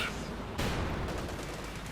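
Tank cannon fire in the World War II strategy video game Company of Heroes 2, with a sharp, loud blast about halfway through rising over a steady roar of battle noise.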